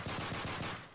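Rapid pistol fire in Call of Duty Modern Warfare 3 Survival mode on the Village map: a fast, even string of about six or seven shots in under a second, loud and close, with no speech.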